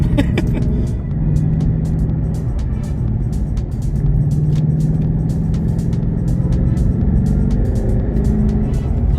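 A Ford Mustang 5.0 GT V8 cruising on a road, its engine giving a continuous loud, close rumble with a gentle rise in revs partway through and no talking.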